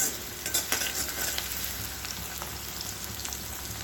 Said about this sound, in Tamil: இது இரும்பு சட்டிங்கிறதுனால சீக்கிரமாகவே வதங்கிடும்